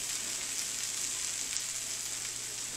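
Keto breakfast burrito filling sizzling and being stirred in a hot pan, a steady bright frying hiss that runs continuously with no talk over it.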